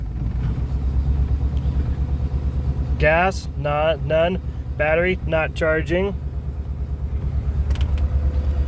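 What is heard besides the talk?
engine of a 1947 Cadillac four-door sedan running after cold start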